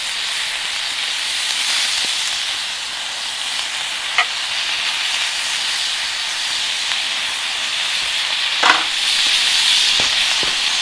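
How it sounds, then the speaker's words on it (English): A generous portion of butter sizzling in a hot frying pan alongside seared meat, a steady close hiss with occasional sharp pops and a few utensil clinks. "Now, I'm going to add a nice generous portion of butter in there. Let that cook as well."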